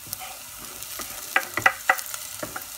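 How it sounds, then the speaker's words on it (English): Chopped garlic goes into a pan with other ingredients for chilli con carne, a soft frying hiss broken by a few sharp utensil clinks and scrapes near the middle. "I'll be adding rest of my ingredients, which is chopped garlic"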